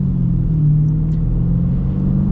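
A Chrysler 300C with the 6.4 Hemi engine gives a steady, low, loud rumble from inside the car, smooth and even with no talking.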